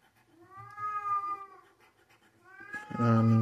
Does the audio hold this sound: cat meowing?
yes